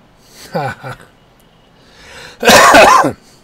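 A person coughs twice, with a short throat-clearing hack first and then a louder, harsher cough close to the microphone.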